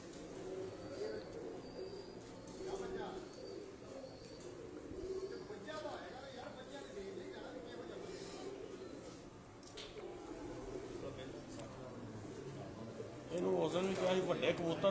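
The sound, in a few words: pigeons cooing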